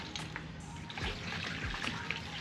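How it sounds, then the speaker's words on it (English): Water trickles and splashes into a Hayabusa motorcycle fuel tank holding a 30% vinegar solution, a faint, steady pour with small bubbling spatters throughout. "then we'll add water to the tank to make sure"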